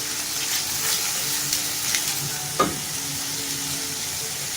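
Salt, chillies and turmeric stirred into softened onions frying in a pan for baingan masala, giving a steady close sizzle with a brief scrape of the spoon partway through.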